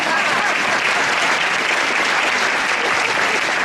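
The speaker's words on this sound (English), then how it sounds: "You can clap your hands for that." Steady applause from an audience at a high school fall sports awards event, a dense wash of hand claps filling the whole moment without pause.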